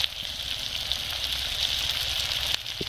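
Chili paste frying in hot oil for a red chicken curry with kohlrabi, giving a steady, even sizzle that holds close and continuous throughout with no voices.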